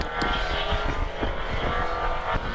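A Porsche 944 race car drives through Farmhouse Bend at the Harewood British Championship hillclimb, its engine a loud, continuous droning roar that holds steady as it passes close by.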